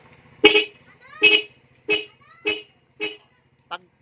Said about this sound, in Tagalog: Dual horn, stock lang talaga. Stock lang talaga siya. Loud horn with passing.